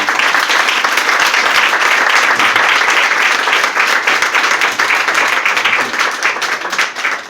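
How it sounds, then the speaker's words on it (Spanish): An audience at a talk on forbidden archaeology gives sustained, dense applause, steady and loud throughout with no pause. "Le recibimos con un aplauso."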